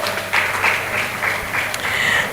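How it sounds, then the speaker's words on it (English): A crowd applauds steadily after a keynote introduction at an event, a dense, even patter of many hands held at a constant level throughout with no break. "Let's give him another round of applause for that."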